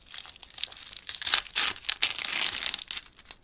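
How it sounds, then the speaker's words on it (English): Plastic packaging bag crinkling and rustling as it is opened, close and continuous with bursts of sharper crackle, no talk. "Sorry about the crinkle noise."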